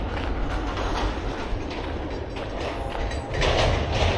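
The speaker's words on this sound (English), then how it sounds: "I'm hearing a train thing again." A train rumbles past on a railway beside a rural walking trail, a loud, continuous roar of wheels and cars with clattering rail noise that swells slightly toward the end.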